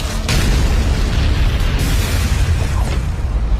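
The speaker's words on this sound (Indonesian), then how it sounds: "Dan setelahnya ledakan besar terjadi" A big explosion in an animated fantasy battle series, a sustained deep rumbling boom with dense low roar and crackling bursts filling the whole stretch, loud and continuous without speech.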